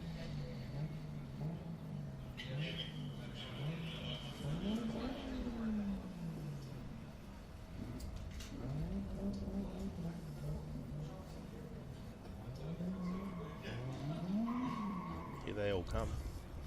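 Drift cars roar and rev at Taupo Motorsports Park during a DriftWars event, engines rising and falling in repeated waves with bursts of tire squeal, loud and continuous over crowd noise, with a voice talking now and then.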